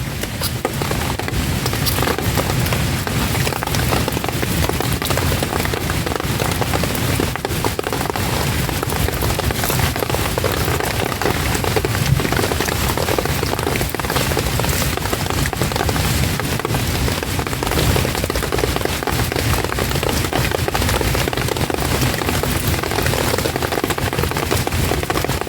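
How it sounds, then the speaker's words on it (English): A twig campfire crackles and pops continuously outdoors, a dense close wash of snapping bursts at a steady level with no talk. "So we've got the fire going."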